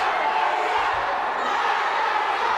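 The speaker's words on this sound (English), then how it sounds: "this crowd is livid right now" An angry wrestling crowd at a Pro Wrestling 225 event, a steady wall of loud roaring and jeering voices that holds at the same level throughout, with no single voice standing out.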